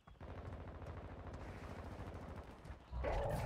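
Rapid automatic gunfire from Warzone Mobile video game rattles in a steady fast stream for nearly three seconds, then gives way to a louder burst of game noise.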